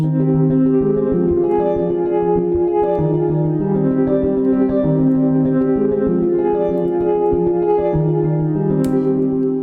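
A dense electronic track plays loudly and steadily, with sustained layered synth chords shifting over a constant driving beat.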